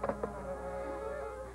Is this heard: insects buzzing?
yes